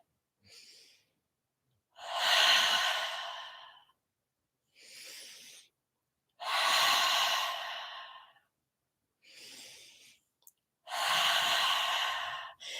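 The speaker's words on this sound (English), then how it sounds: "begin breathing in through the nose and powerfully out through the mouth" Slow, deliberate breathing, with a quiet inhale through the nose followed by a long, forceful exhale through the mouth, repeated three times close up, with silence between breaths.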